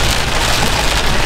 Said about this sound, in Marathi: एवढा डेंजर पाऊस पडतोय.